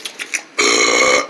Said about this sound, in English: Pigs don't say excuse me when they burp.